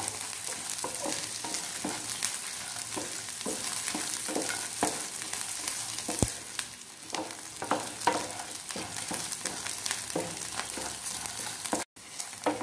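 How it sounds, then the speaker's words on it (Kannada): Chutney ingredients fry in a pan with a steady, close sizzle and frequent clinks and scrapes of stirring, continuing for several seconds before a brief cutoff near the end; nobody speaks. "ಇದು ಒಳ್ಳೆ ಫ್ರೈ ಆಗಬೇಕು"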